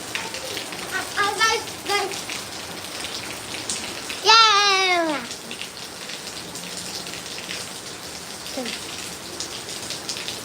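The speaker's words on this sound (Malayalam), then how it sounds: "നല്ല മഴ" Night monsoon rain falls steadily in Kozhikode with some wind, a soft continuous patter beneath occasional voices and a few brief chirpy vocal sounds.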